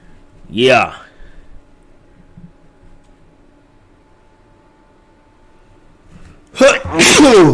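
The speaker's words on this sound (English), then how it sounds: "Man, I had to sneeze." A loud sneeze bursts out near the start, then quiet room noise, and another sharp sneeze-like burst with a breathy catch comes at the end.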